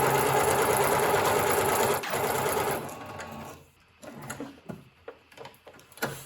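A sewing machine stitches a zigzag seam in a steady, continuous mechanical whir that stops partway through, followed by faint rustling and handling of the fabric.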